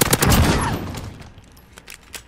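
PP-Bizon submachine gun firing in a first-person shooter, a loud rapid burst of shots up front that fades into scattered, fainter single reports.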